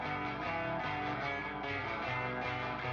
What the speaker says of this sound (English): I put in these atmospheric parts